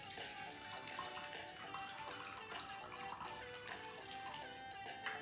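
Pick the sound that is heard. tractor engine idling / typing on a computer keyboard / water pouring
water pouring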